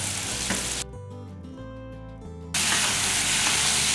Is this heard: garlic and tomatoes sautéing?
yes